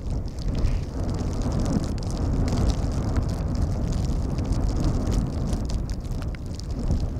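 Strong wind at Schiphol Airport in Amsterdam buffets the microphone in a steady, loud rumbling roar, with gusty broadband noise and no clear voices.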